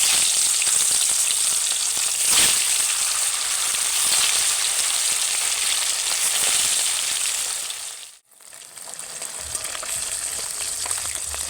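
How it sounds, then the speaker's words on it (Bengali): Rui fish pieces rubbed with salt and turmeric sizzle steadily in hot oil, a dense, continuous crackle that stays loud and close with one brief dip near the end. "মাছটাকে এখানে ভেজে নিচ্ছি।"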